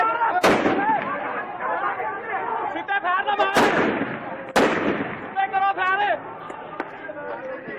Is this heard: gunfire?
yes